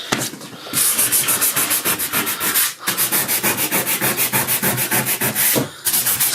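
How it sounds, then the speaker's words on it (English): Hand sanding around holes in the walls of an RV during renovation, a steady, loud back-and-forth rubbing with quick rhythmic strokes and a couple of brief pauses, close to the microphone with no talk. "I am sanding the holes so that we can silly putty."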